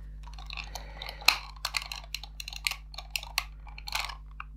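A flathead screwdriver grinds and slips against a stripped screw on a 1984 Tomy Dingbot toy robot, giving a series of irregular scraping, crunching clicks at close range.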